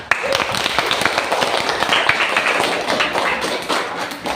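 Students in an Indonesian classroom clap their hands together for several seconds, a busy patter of many small hands at close range with some thumps mixed in.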